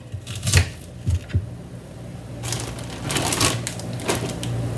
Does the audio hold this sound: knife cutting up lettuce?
yes